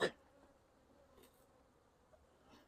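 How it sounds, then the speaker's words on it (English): Honey bees hum faintly and steadily at a hive entrance at close range, a soft buzzing drone after a brief click at the start, with no voices. "see those bees at the front entrance still distracted by that"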